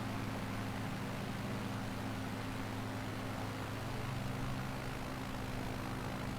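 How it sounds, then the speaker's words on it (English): A small bush plane drones steadily in flight near Newcastle upon Tyne, a constant propeller-engine hum with a broad rushing wash of wind noise, even and unbroken throughout. "In one of my favourite little bush planes."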